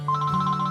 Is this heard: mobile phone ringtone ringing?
yes